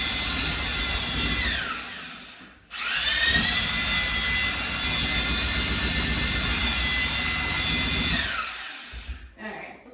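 A power drill with a mixing paddle churns Sheetrock Plus 3 joint compound in a bucket, a loud steady high whine that dips briefly as it stops, then restarts and runs on before winding down.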